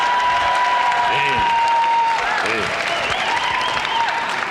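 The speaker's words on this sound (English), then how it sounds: "The people clapping here have maybe seen Carlin do the 7 words chunk live" Audience applause at a George Carlin stand-up show at USC, a steady roar of crowd clapping throughout with a voice sounding over it.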